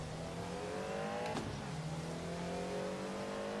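A race car in Assetto Corsa EVO with its engine whining steadily through the gears, revving and dropping sharply on a downshift partway through, then climbing again, steady and continuous.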